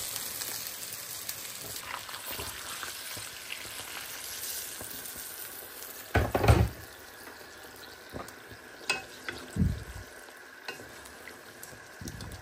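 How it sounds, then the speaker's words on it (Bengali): Rohu fish frying on a stovetop burner, a steady close sizzle with a few louder bursts and pops around the middle and later stretch. "এক চুলায় দিলাম মাছ ভাজতে,"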